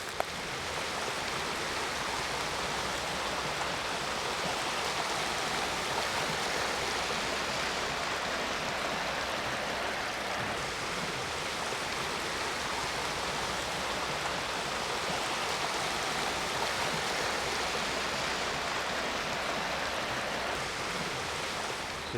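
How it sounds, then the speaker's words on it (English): Water in a stream near beaver dams rushes steadily, a dense, even broadband roar that holds unbroken throughout, with no voices. "but you can hear the water"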